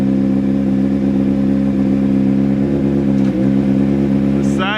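A Honda CBR600RR motorcycle engine runs steadily in first gear, a loud, even low hum with strong harmonics, briefly dipping near the end as a higher whine rises.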